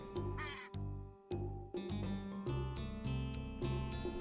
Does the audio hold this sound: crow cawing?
yes